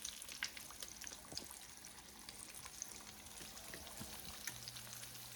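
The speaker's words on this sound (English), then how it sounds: "Let them fry a little bit." Flour-dusted chicken wings frying in hot oil, a quiet steady sizzle with scattered pops and crackles, close and alone.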